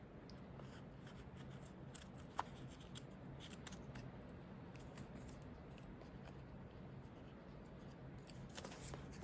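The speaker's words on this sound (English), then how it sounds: "And then just trim this bit off." Scissors trim paper for a junk journal in a run of soft, close snips and rustles, with a faint crisp cut standing out here and there in a quiet room.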